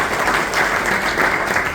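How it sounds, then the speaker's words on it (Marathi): An indoor audience in a hall breaks into loud, dense applause, a steady wash of clapping lasting under two seconds with no pauses. "एकदा राठोड सरांसाठी एकदा जोरदार टाळ्या"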